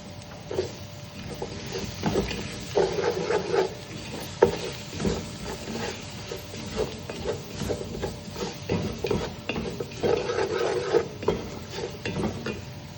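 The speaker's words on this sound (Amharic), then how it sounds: "እንደዚህ ሲጠበስ ሲቁላላ" Onions fry and are stirred in a pan for a fish dish, giving a soft sizzle under repeated scraping and clattering spoon strokes that come in uneven bursts, close by and without talk.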